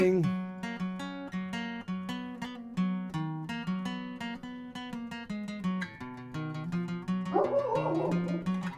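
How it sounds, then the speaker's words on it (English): Within a song, a rapid run of pitched, barking dog-like yips plays as a melodic solo over a steady backing, evenly rhythmic and fairly loud, then thickens into busier sound near the end. "Dog solo."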